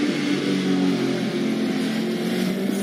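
Steady engine drone of a car in the racing game Need for Speed Underground 2, a sustained mid-pitched hum holding an even level throughout, with no voices.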